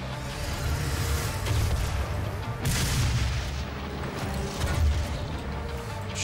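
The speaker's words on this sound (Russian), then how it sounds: "Взрывы." Heavy explosions boom in the DOOM video game, a dense, loud, continuous rumble of blasts and crashes with deep low-end weight throughout.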